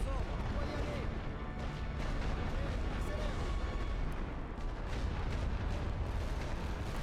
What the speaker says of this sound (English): let's run here and shoot with artillery